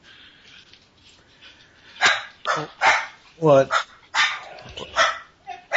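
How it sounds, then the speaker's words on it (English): Dogs barking close by in a home during a podcast recording, several sharp barks and yips in quick succession while people talk over them. "Oh, yikes, dogs."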